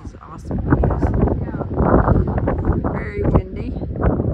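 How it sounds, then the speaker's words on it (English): Strong gusting wind on a mountain ridge along the Appalachian Trail in New Hampshire, buffeting the microphone in loud bursts while people talk close by. "Very windy."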